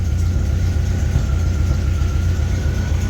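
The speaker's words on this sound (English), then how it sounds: "We'll let it sit here and idle for a couple." An MGB sports car engine idling steadily at close range, a continuous low rumbling drone with an even, unbroken rhythm and no voices.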